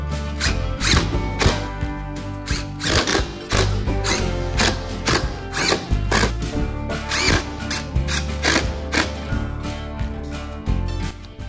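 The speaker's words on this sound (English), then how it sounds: "make sure you start them all just by finger tight before you use an impact" An impact driver tightens bolts on a Ryobi RM480 riding mower, loud close ratcheting hammering in rapid bursts repeated over and over with short pauses between.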